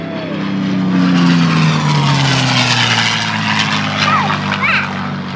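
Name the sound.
airplane flying past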